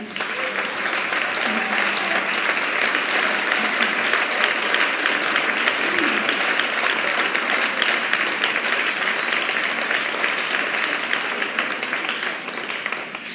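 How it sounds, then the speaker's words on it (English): A school prize-giving audience applauds the Student Council in sustained, dense clapping that stays loud and even for over ten seconds. "please give them a round of applause"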